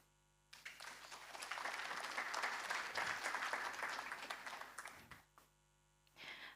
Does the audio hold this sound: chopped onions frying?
no